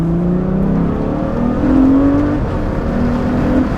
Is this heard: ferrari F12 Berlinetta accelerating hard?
yes